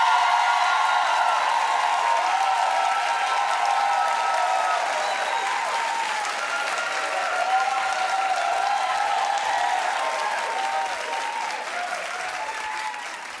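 A studio audience at a TV talk show claps in sustained, steady applause, loud and full at first and easing slightly toward the end, with no speech over it.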